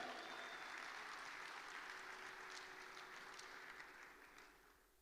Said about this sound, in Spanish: Vamos a darle fuerte ese aplauso a él